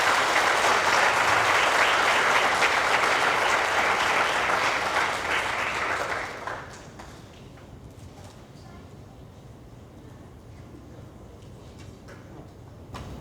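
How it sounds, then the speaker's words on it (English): A crowd applauds new Hall of Famers at a recognition reception, a dense, loud wash of clapping for about six seconds that then drops to a quieter room murmur with scattered claps. "One more round of applause for our"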